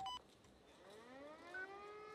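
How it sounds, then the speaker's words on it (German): Fire alarm sirens winding up during a building-fire call-out, a rising wail that climbs steadily in pitch and overlaps with faint electronic beeps, heard at moderate distance without speech. "Die Sirenen laufen an."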